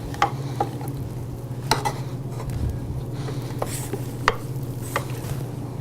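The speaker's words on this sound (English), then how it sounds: "We're going to continue mixing now." Thick birthday cake icing being mixed and scraped in a bowl, with a steady low mixer hum underneath and several sharp scraping clicks scattered throughout, close and moderately loud.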